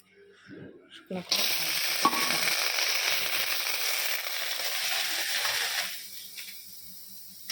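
Garlic, almonds and dried red chillies hit hot oil and sizzle loudly and steadily for several seconds, the noise following a few soft clicks and knocks before tapering off at the end.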